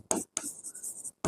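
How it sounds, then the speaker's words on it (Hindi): Chalk or marker writing on a board during a chemistry lesson, several short close scratchy strokes separated by brief pauses, fairly quiet. "हम यहां पे लिख देते हैं"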